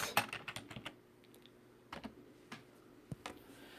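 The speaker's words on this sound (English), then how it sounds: "Now when I type in something, say I type in blue wedding hat," Quick bursts of keystrokes on a computer keyboard as a search is typed, with clustered taps at the start and scattered single clicks after pauses, close and fairly quiet with no talking.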